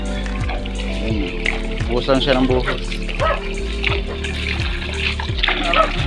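Water pours and splashes steadily at a farm water source in a rural barangay of Minalabac, while people talk loudly over it throughout.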